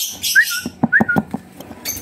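A hand-raised fledgling bird, after being attacked by ants, gives a few short whistled chirps, close and clear, with soft tapping sounds between them.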